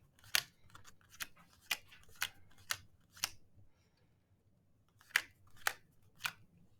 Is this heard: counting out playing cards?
yes